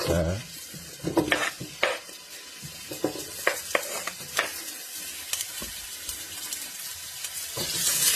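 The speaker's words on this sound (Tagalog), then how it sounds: "gusto ko pong igigisa ko muna" Onion, garlic and ginger being sautéed in a pan for sinigang with pampano and shrimp: a soft sizzle under sharp clinks and scrapes of a utensil stirring against the pan, in irregular bursts.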